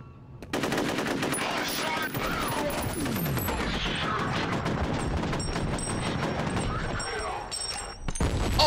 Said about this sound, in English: Oh, that was a whole grenade.